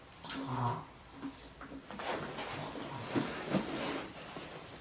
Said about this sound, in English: My dog is just making some serious noise.